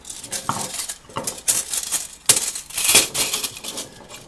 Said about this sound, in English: To disassemble the stove, you push on the underside.